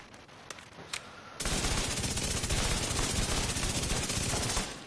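Sustained rapid SMG gunfire in The Division 2, a loud continuous burst of dense automatic shots running over three seconds after a few scattered isolated shots, with no talking.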